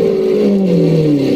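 A car engine in a video game runs steadily, with a smooth, loud drone whose pitch sags slightly over a moment, with no one talking over it.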